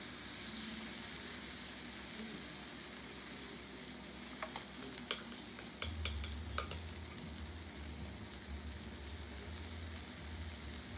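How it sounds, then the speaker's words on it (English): Chaffle batter sizzles on a hot Pampered Chef Deluxe Grill/Griddle in a steady, faint hiss. A few small clicks and scrapes break in midway, and a low hum joins partway through. "It's already hot and sizzling"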